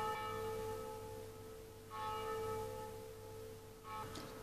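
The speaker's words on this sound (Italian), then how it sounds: "quando suonano le campane davanti a casa" Church bells in front of a house at midday ring in slow, evenly spaced strikes, each leaving a long humming resonance that fades before the next, fairly faint and heard without speech.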